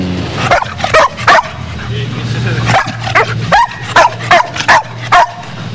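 Loud, close dog barking in quick bursts mixed with whimpering yips from a Coast Guard K9 dog at its headquarters, with a person talking underneath.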